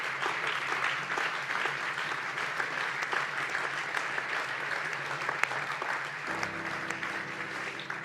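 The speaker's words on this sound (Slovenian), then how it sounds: "glasen aplavz za ekipo leta" An audience at a 2021 para-athlete of the year awards ceremony claps loudly and steadily for the team of the year, dense applause sustained throughout, with a low steady tone entering near the end.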